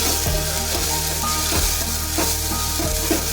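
Ginger garlic paste hits hot oil in a pan with a loud, dense, continuous sizzle, punctuated by regular stirring scrapes every half second or so.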